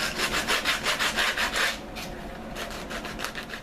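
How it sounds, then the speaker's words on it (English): The edge of a sporran pattern piece is sanded by hand in quick, even back-and-forth strokes, about a dozen rasping passes, then a pause and a few softer rubs, all close and without talk. "The more you sand, the harder you sand, the more you can kind of take away some of the edge as well."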